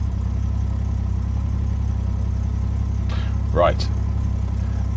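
A classic car's engine idles steadily just after start-up, a constant low rumbling hum, while someone briefly speaks over it.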